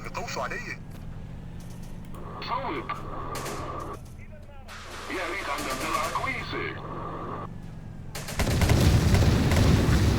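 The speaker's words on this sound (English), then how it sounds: "Oh, I absolutely hate those damn shots." Battle sounds from the video game Syrian Warfare in Aleppo: scattered gunshots and distant booms punctuate the mix, ending in a loud, dense roar of fire, with someone talking over much of it.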